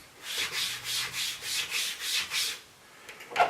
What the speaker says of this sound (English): this is like a coarser sound to the leather